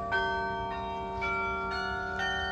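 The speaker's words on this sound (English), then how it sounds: "second lowest pitch bell" The second-lowest-pitch bell of a carillon at a concert in Frederick, Maryland rings in sustained, overlapping tones, with several fresh strikes layered over the lingering hum, clear and resonant.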